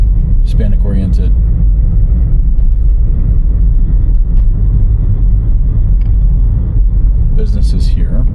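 A car drives through North Aurora, Colorado, toward the University of Colorado Health campus. A loud, steady low road rumble fills the cabin throughout while people talk over it.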